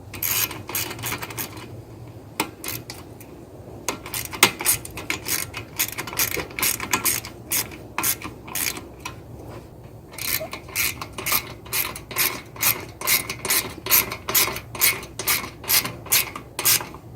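A ratchet wrench tightens the kickstand bolt on a Lectric 2.0 e-bike, clicking steadily and close. The clicks come in rhythmic bursts that grow quicker and more even toward the end.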